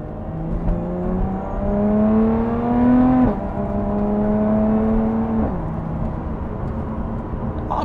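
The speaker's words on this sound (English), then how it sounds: "upshift is pretty quick in sport mode." Lotus Evora with an automatic gearbox in sport mode accelerates hard, its engine note climbing steadily and then dropping sharply at two quick upshifts, loud and close with no talk.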